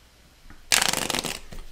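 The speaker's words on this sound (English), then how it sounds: "I don't know why I keep shuffling" A deck of cards is riffle-shuffled for a board game, one quick burst of fluttering, snapping card edges, close and clear, with no talk over it.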